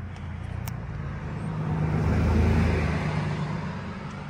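A 2019 Ford Mustang GT, push-button started, settles into a steady low engine rumble that swells slightly midway and keeps running without a break, with no talking.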